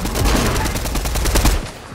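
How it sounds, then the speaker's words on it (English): Rapid machine gun bursts from a video game weapon, a dense rattle of repeated shots running steadily for about two seconds and then cutting off, loud and close with no voice over it. "It's a machine gun."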